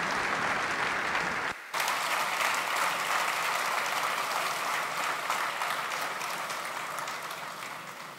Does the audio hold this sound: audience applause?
yes